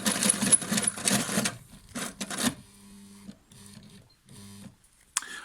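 A Phoenix 82 sewing machine runs in a few short bursts: a dense whirring stretch first, then brief stop-start stitching runs with a low mechanical hum, ending with a small sharp click.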